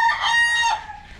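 A single close chicken call, a loud strained squawk that rises and then trails off quickly.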